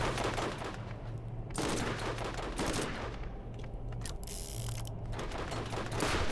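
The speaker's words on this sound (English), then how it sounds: "Hang on, let me equip my rocket launcher." A multi-shot rocket launcher in Borderlands fires a run of punchy bursts and whooshing blasts in irregular succession, loud and close, with mechanical clicks between shots.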